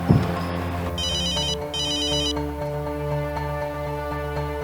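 A telephone ringtone on an outgoing call, two clear electronic ring bursts repeating at a steady rhythm over a loud, sustained musical drone, with no talking.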